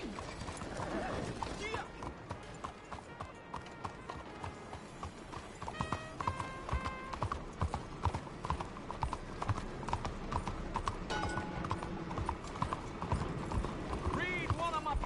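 Horse hooves clip-clop at a steady gallop in Red Dead Redemption 2, rhythmic and close, with an occasional whinny, game music and character voices talking over the hoofbeats.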